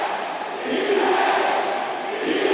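A basketball crowd in an arena chants defense during a tense final possession of a game between CLS Knights Indonesia and Hong Kong Eastern, a steady, swelling roar of many voices.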